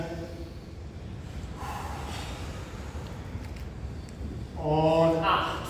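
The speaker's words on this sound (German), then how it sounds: "tief atmen." Deep breaths during a full-body yoga flow: a quiet inhale, then a louder, fuller exhale near the end, under a soft background hiss with an instructor's voice speaking.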